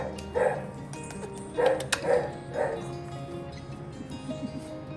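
A dog whimpers and yips while trying to kiss its owner, giving three or four short, high-pitched whiny yelps close by, with soft rustling between them.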